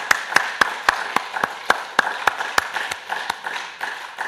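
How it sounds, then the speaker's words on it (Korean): A church congregation claps in steady unison at an early-morning worship service, sharp regular claps at about three per second with a faint hum of voices beneath. "우리 하나님 앞에 영광의 박수 한번 보내요."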